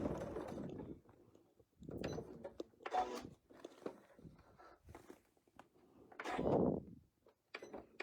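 A sewing machine runs in short tacking bursts on quilt fabric, a few separate spurts of close mechanical stitching with quiet gaps in between.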